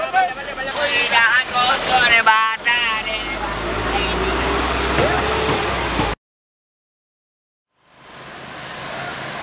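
A vehicle rumbles along steadily with voices talking over it, then the sound cuts out briefly before the engine noise rises again.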